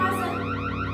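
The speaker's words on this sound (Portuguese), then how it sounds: "É um alarme de segurança." A home security alarm sounds continuously indoors, a loud, steady electronic tone with layered pitch sweeps over a constant low hum, no voices.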